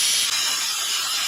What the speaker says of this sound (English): Now this setup does require an air compressor.